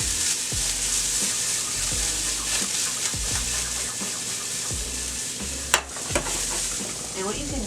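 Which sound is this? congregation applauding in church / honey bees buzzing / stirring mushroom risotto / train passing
stirring mushroom risotto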